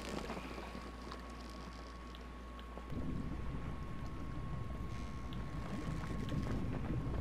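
Wind and water rush around a small boat under sail in the survival game Stranded Deep, a steady broadband wash that grows fuller partway through, with no voices.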